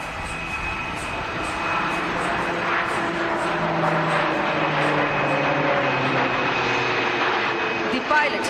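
A jet aircraft flies an aerobatic horizontal figure of eight at the Aero India air show, its engine roar rising and shifting in pitch at a distance while a commentator talks over it.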